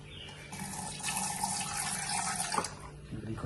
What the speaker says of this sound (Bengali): দেখি জল দিয়ে আস্তে আস্তে জল দেবেন।